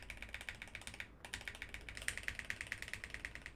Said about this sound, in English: So here's me on the DrunkDeer A75 spamming my D key